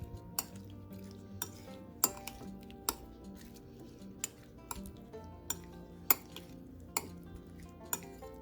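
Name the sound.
whisking lemon juice into peach salsa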